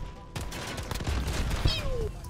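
Rapid close pistol shots from a 1911 in Modern Warfare, a quick burst of sharp cracks followed by a whizzing ricochet-like tone, loud and near.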